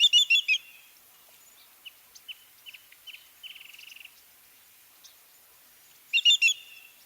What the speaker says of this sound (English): call of the great yellowlegs is actually a clear, ringing choo choo choo kind of